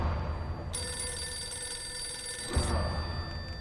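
In-game telephone in a crime detective game ringing with a bright electronic trill that lasts nearly two seconds, set over a low ambient hum, with no voices during the ring.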